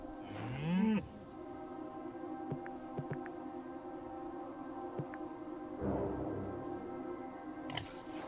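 Cows in Orwell's Animal Farm video game give one rising, drawn-out moo near the start, followed by quiet farmyard ambience with scattered soft clicks and a fainter low call later on.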